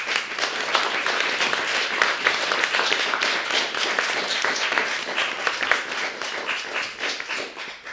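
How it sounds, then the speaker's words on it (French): Audience applause for a cellist after Bach cello suites at a philosophy salon, dense, steady clapping from a sizable crowd, close and sustained for several seconds before easing slightly. "Je vous demande de l'applaudir une nouvelle fois, s'il vous plaît."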